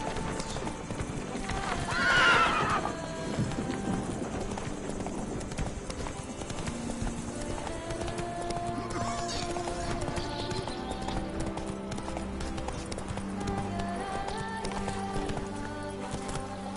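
Roach the horse in The Witcher 3, neighing once early on, then hooves clopping steadily at a trot beneath game sounds, with some talk.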